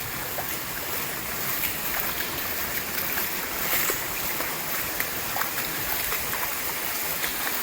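Floodwater rushing down the streets of Tuapse, a loud, continuous broadband roar of flowing water that stays steady throughout with no one speaking.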